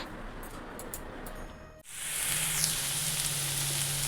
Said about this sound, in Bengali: এই যে আমার ভাজা এখানে পটল দিয়ে আর আলু দিয়ে ভাজা বসিয়ে দিয়েছি